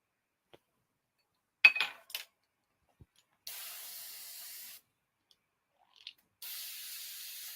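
An airbrush loaded with thinned model paint gives two steady hissing bursts of about a second each, close and fairly loud. They are preceded by a few small clinks and taps of equipment handling, with quiet gaps between and no speech.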